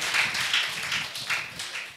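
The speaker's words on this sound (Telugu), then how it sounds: "చప్పట్లు కొట్టి దేవునికి స్తోత్రం చెబుదాం." A church congregation claps hands in praise, a dense run of many overlapping claps at a steady rhythm, loud and fairly close, with no talking over it.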